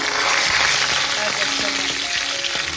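Chili flakes fry in a pan for a vegetable curry, giving a steady, close, dense sizzle with faint stirring clicks and scrapes throughout.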